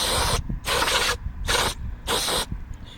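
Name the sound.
spraying off an engine area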